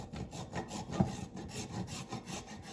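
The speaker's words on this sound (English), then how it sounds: "I'm just going to grate all of this ginger into my sauce." Unpeeled fresh ginger is rubbed against a grater over a sauce, a quick run of rhythmic rasping strokes, close and moderately quiet, with no talking.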